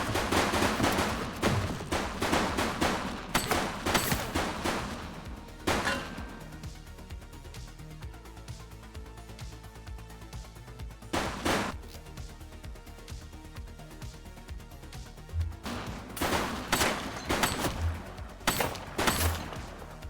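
Rapid bursts of automatic and single gunshots ring out in the police video game The Precinct, loud and close, in clustered volleys separated by short quiet gaps with a few isolated cracks.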